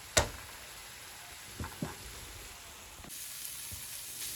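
Breadcrumbs toast in a frying pan with a quiet, steady sizzle, broken by a sharp clack at the start and a few soft knocks and scrapes of stirring.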